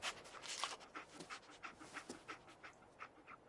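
Dogmeat, the dog companion in the Fallout 4 video game, pants in a steady rhythm of quick, breathy puffs for several seconds, close and clear with no talking over it.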